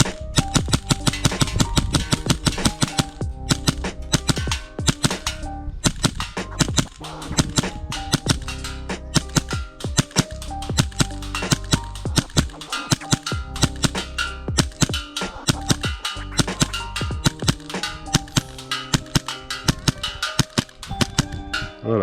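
A Hi Capa custom Norrispeed airsoft pistol fires BBs in a long run of sharp, close snapping shots, often in quick doubles, with steady rhythm and short pauses between bursts.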